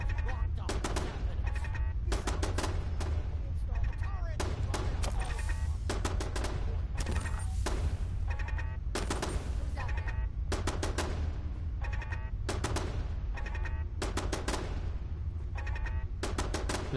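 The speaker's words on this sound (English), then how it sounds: "turret shooting." Automatic turret firing in Fallout 4, rapid bursts of gunfire repeating in short volleys with brief pauses between them, loud and continuous over a steady low game rumble, with a voice talking faintly underneath.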